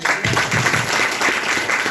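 An audience breaks into loud, sustained clapping that stays dense and even for the whole two seconds.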